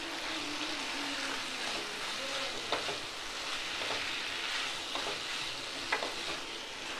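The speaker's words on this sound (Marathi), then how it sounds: "आता हे आपण व्यवस्थित मिक्स करून घेऊया म्हणजे आपले शेजवान हक्का नूडल्स रेडी होतील" Schezwan Hakka noodles being stir-fried in a pan, a steady broad sizzle with soft scraping and a couple of brief clinks as the noodles are mixed, close and continuous with no talking.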